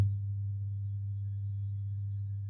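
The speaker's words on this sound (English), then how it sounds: "It says to turn on the frequency generator. So it makes kind of a low hum." A frequency generator driving a speaker in a standing-wave string lab gives off a steady, low, constant hum, unchanging in pitch and loudness, with no other sounds around it.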